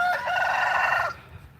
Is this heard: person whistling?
no